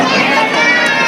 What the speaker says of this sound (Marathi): हे बघा फुल म्हणजे फुल गर्दी.